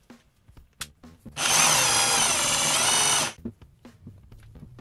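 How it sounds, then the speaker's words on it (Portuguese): A Bosch hammer drill fitted with a quick-release chuck runs in drilling mode, one loud continuous burst of about two seconds close by, with clicks and handling noises before and after. "Furo com martelete."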